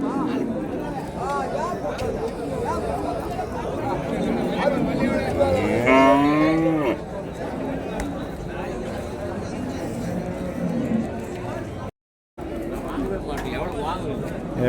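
Cattle low at a busy cattle market in Vaniyambadi, Tamil Nadu, with a drawn-out moo rising above steady crowd chatter and people talking nearby.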